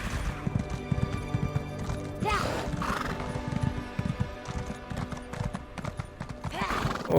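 A horse gallops with rapid, steady clip-clop hoofbeats and neighs loudly several times in the Elder Scrolls Online video game, a busy game soundscape around it.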